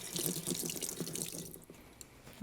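Water runs from a tap with splashing and dripping as something is rinsed, then the flow fades out near the end.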